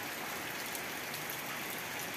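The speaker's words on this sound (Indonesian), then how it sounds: "suasananya hujan deras" Heavy rain falls at night, a fairly quiet, even hiss of rainfall with no distinct drops standing out and no one speaking.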